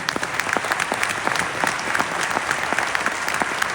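Applause from spectators at the Enduropale du Touquet 2025 motorbike race prize-giving for third place, a dense, continuous patter of many hands clapping at moderate distance, with no voices standing out.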